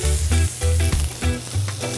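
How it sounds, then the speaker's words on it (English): Cherry tomatoes, scallions and pimento peppers sauté together in a pan with a loud, close sizzle, pulsing in several rhythmic surges as the vegetables are tossed and stirred. "All of this is going to get sauteed together."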